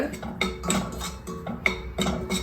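A spoon stirs and scrapes dry halwa mixture for Ashoka halwa in a metal pan over a low flame, making repeated soft clinks and scrapes in an irregular rhythm, close and fairly quiet.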